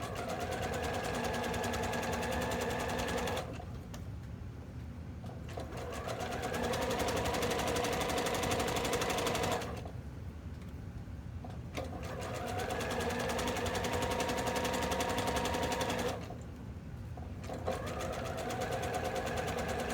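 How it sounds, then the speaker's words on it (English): Sewing machine stitching stretched elastic onto a Luna bralette, fast steady needle chatter running in three long bursts, separated by brief pauses; close and clear with no talking. "Again, I'm stretching the elastic as I sew so that our fabric is flat."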